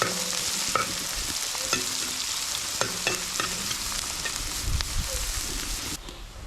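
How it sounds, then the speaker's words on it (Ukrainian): Onions fry in a cauldron for Ukrainian red borscht, a dense, steady sizzle close by with occasional stirring scrapes and clicks, running continuously without talk before dropping slightly at the end. "Починаємо пасіровку цибульки для нашого борщика. Маю обсмажитися до золотої скоринки."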